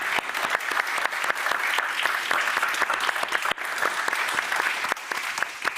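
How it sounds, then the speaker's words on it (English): Audience at a conference on European raw materials policy applauds the speakers, a dense, steady burst of clapping from many hands filling the room, close and fairly loud with no talk over it. "Could we have a round of applause, ladies and gentlemen, for our speakers?"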